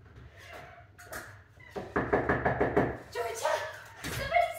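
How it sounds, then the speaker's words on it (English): Knocking on a door, staged during dog training, comes as a quick run of sharp raps in the middle, with a person talking before and after. "I'm going to pretend to knock"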